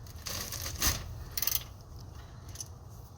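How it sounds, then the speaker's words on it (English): A ratchet with a 1/2 inch socket works the oil drain plug loose on a Jeep Wrangler JL Rubicon with a 3.6 L Pentastar V6. A few quick metallic clicks and clunks sound close and fairly quiet, with no talk. "You take your 1/2 inch socket and your ratchet and go ahead and break this drain"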